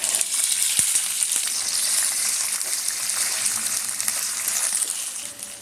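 Green peas sizzling in hot oil with cumin seeds while making stuffed matar puri: a steady, bright, crackling fry that runs unbroken and close throughout, with no voices.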